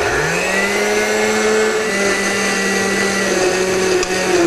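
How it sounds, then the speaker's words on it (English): A countertop blender purees a bowl of watermelon, its motor whining loud and steady up close and rising in pitch as it spins up, with no speech. "we're going to take a big bowl of watermelon and just put it in a blender"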